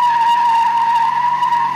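A 2009 widebody Dodge Challenger with twin Flowmaster mufflers and resonators removed produces a loud, steady engine tone or squeal held evenly for a couple of seconds, close up with no talking.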